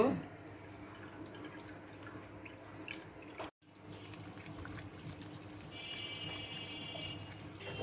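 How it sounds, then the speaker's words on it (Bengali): Tomato puree is pressed slowly through a sieve for a homemade tomato sauce, giving a steady wet, dripping and trickling sound close by, with a brief pause midway. "এখন আমি আস্তে আস্তে করে এগুলো ছেঁকে নেব"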